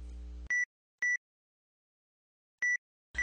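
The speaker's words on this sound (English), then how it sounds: "We also included into the same a buzzer that can be used for any kind of audible feedback" A small electronic buzzer in a wearable fashion electronics device gives short tonal beeps, two close together, then a pause before two more, clean and near with silence between.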